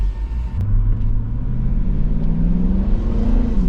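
V8 family car pulling away, a loud steady low engine rumble that rises gradually in pitch as it gets under way, with no talking.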